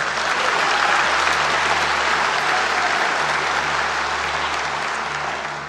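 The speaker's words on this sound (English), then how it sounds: "you can clap." A church congregation applauds at an Easter service, steady dense clapping filling the room for several seconds without a break, tapering slightly at the end.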